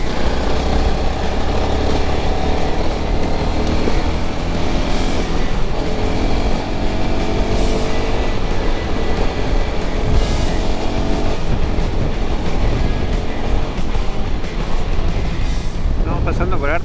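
A Honda CRF300 Rally motorcycle rides over a washboard gravel road, its engine droning steadily and loudly under continuous rattling and buffeting for the whole stretch, with a voice talking over it.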